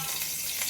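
Chicken liver (kaleji) fries in a pan with a brief, dense, steady sizzle and crackle heard close up.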